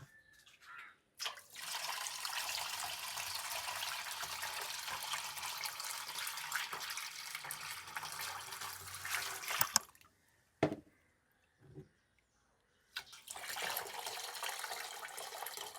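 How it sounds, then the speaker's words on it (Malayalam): Water pours into a homemade natural fertiliser mix of banana peels and rice-washing water, a steady splashing rush that stops briefly and then resumes, fairly close and alone. "അത് ഞാൻ ഇരട്ടി വെള്ളം ചേർക്കണതാണ്"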